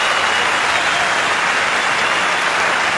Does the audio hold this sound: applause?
yes